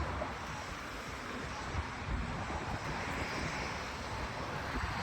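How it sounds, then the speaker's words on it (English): Steady broadband roar of a jet airplane taking off, constant and fairly loud throughout, with wind-like rushing and no voices. "here's the part where the plane's gonna take off"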